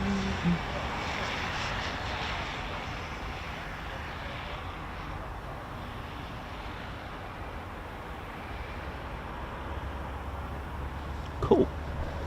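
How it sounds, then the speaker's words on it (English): Eurofighter Typhoon FGR4 jets departing RAF Coningsby produce a broad, continuous jet roar that stays steady and fairly loud throughout, with a brief sharp knock near the end and no talking. "Typhoon departures from RAF Coningsby"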